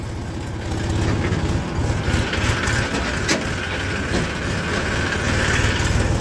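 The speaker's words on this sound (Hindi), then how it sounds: "पीछे ट्रैक्टर आ गया है कोई।" A tractor engine rumbling close behind on a cold rural road, a loud steady diesel drone with rattling that holds throughout without fading.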